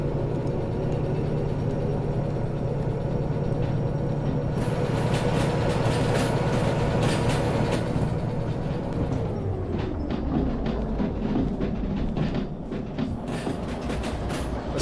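A locomotive rolls along rails in the Derail Valley train game, a steady rumbling drone with clickety-clack wheel beats throughout, growing busier midway, with no talking.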